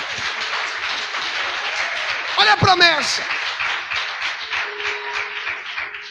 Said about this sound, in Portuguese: Quem pode aplaudir o Senhor nosso Deus bem forte?